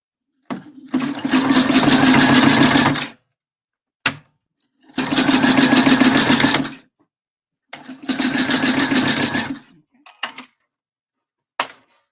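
A sewing machine stitches across the centre of a bra, running in three sustained whirring bursts of a few seconds each. Short clicks and silences fall between the bursts, and the sound is close and loud.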